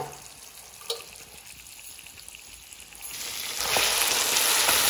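Mutton karahi sizzles in the pan as yogurt is added bit by bit. A steady frying hiss swells louder partway through and carries on alone without talk.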